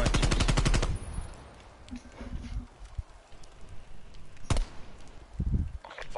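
Video game gunfire opens with a rapid, loud automatic burst, then gives way to scattered, quieter single shots and impacts over background game noise.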